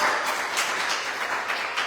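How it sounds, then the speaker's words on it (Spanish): A church congregation gives a strong round of applause during a Spanish-language service, a dense, continuous patter of many hands clapping together, fairly loud and even throughout the short burst. "Le damos un aplauso fuerte al Rey de Gloria."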